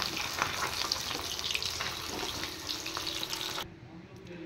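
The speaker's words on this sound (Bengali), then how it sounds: "এবার আমি মাছগুলো নামিয়ে দেব।" Fish pieces go into hot oil in a pan, a dense bright sizzling hiss with faint clatter that drops off sharply near the end, leaving a quieter hum.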